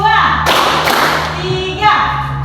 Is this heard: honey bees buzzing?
no